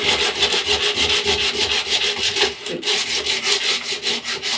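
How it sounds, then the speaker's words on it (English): Power sander grinding down fiberglass built up around surfboard fins, a rhythmic pulsing rasp repeated in quick strokes, loud and close, with a brief pause near the middle. "You don't want to be catching the sander on these fins while you're working."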